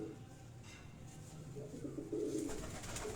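A pigeon cooing softly in low, rolling calls close by, faint against a quiet background with some rustling.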